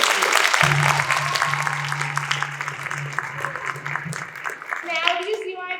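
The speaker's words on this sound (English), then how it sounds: "can you give them a round of applause?" A crowd claps in steady applause, fairly close, fading after a few seconds, with a low hum underneath and a few voices at the end.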